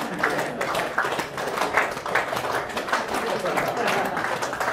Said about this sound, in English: And you start clapping.